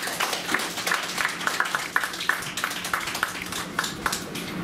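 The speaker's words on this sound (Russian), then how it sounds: "так что ваши аплодисменты" Scattered audience clapping at a play reading, faint and uneven with distinct individual claps popping out over a soft steady patter.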